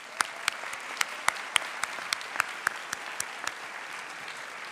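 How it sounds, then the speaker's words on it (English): Moderate round of audience applause at a college commencement ceremony, a steady crackling patter of many hands with a few sharper individual claps standing out, no talk over it. "Can we give them a round of applause?"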